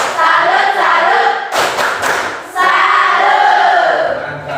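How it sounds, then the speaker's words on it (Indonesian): A group of people claps together in a classroom setting, dense overlapping hand claps that swell, dip briefly midway, then resume strongly before tapering off. "Let us give applause for all of us."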